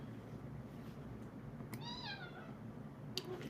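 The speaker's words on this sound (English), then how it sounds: "Ignore my kitty meowing over here" A pet cat gives a single short, faint meow over a quiet room, with no other sounds around it.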